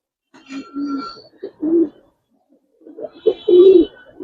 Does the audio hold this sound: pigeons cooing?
yes